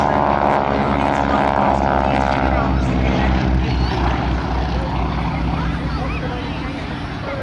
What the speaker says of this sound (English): so the Blue Aircraft is actually the first one that Vic bought in 1987